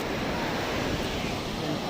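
Sea waves washing onto a Kerala beach, a continuous broad roar of surf close by with some wind buffeting the microphone.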